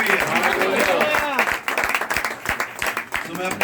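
Congregation at a Christian gathering in a village clapping and cheering in thanks to Jesus, a dense wash of applause with voices mixed in, steady and close, thinning toward the end.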